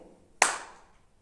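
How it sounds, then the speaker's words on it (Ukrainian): A single crisp hand clap sounds out close and clear in a quiet room, fading quickly afterward, as children clap along in a counting game at a preschool. "а ви будете плескати долоньки"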